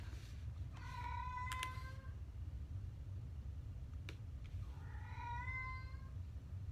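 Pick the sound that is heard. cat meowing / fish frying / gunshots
cat meowing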